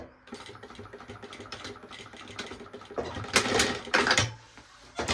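A sewing machine stitches a seam on a fabric maternity bag, a fast steady rattling run of needle strokes, close and moderately quiet, ending in a few louder bursts of stitching and handling.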